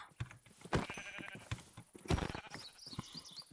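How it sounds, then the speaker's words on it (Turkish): A sheep in a Minecraft Java game gives a couple of short bleats among scattered footstep and interface sounds, with quiet background voice chatter. "Ha, koyun bulduk."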